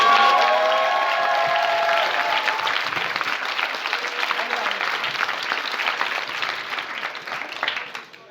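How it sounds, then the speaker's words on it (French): A seated conference crowd at a union event applauds, steady dense clapping that starts strong and gradually thins out, with no voices over it, until it fades at the very end. "Vous pouvez l'applaudir."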